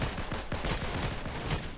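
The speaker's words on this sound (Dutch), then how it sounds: "Wat een schoten en zo." Rapid, dense gunfire crackles continuously in Fortnite, with overlapping shots forming a steady barrage throughout.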